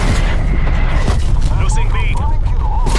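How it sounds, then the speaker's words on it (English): Incoming artillery explosions in a video game, loud booming blasts with rumbling debris, layered under chatter and tonal game radio voices. "Incoming artillery."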